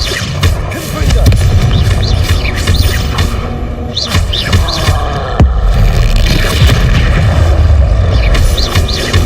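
In the Hogwarts Legacy video game, Confringo blasting spells erupt as heavy, booming explosions with deep low rumble and crashing debris, one after another amid combat noise and chirping spell effects, under a voice casting spells.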